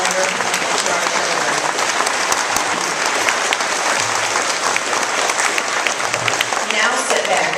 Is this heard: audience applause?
yes